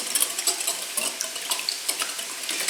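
Two whole eggs and an extra yolk whisked in a bowl for spaghetti carbonara, a quick steady run of light clinks and taps as the whisk strikes the bowl, close by with no talking.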